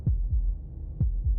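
Heartbeat from the video game Slay the Princess: two deep, muffled lub-dub thumps about a second apart, close and steady against a low hum, with no talking.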